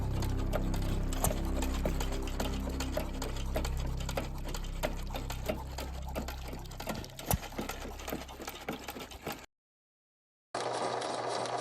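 Chicago Pneumatic 100 horsepower hot-bulb engine with exposed crankshaft running, a steady rhythmic mechanical clatter with fast repeating knocks, loud and continuous before a brief cut to silence.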